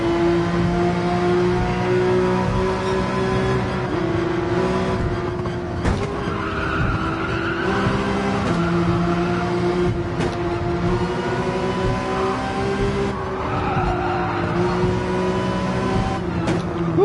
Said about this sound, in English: And the drag race starts